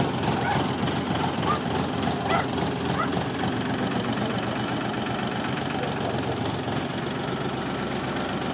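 A DTZ 354U tractor engine runs close by at a steady, rough idle, with a continuous low knocking rumble and vibration throughout.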